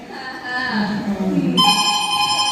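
A telephone starts ringing partway through a home scene, its electronic bell tones sounding loud and steady over quieter household noise that fills the opening.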